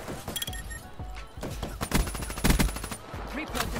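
Rapid bursts of gunfire from a weak gun in a video game, with repeated close shots clustered into volleys over a few seconds amid other busy game noise.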